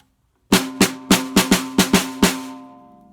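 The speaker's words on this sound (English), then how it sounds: "Here it is again with those snares on." Seven close, loud strikes on a snare drum with the snares engaged, each a sharp, bright, buzzy crack with a rattling tail, played alone in a slightly uneven rhythm before a lingering ring fades out.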